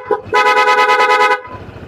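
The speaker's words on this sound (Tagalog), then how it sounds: "Then, stock horn." The stock horn of a Honda PCX 160 scooter gives one loud, steady honk of about a second, close up, with no speech over it.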